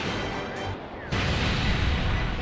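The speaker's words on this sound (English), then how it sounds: "Let's see if we can do something here with this Spirit Bomb." A Spirit Bomb energy attack in a Dragon Ball fighting game lands as a dense, roaring wash of noise that dips briefly, then surges back louder into a sustained, crackling rumble.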